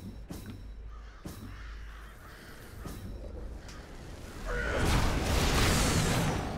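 Crows caw in the video game Fable 3, with a few harsh calls over outdoor ambience, followed by a rising swoosh of game effects.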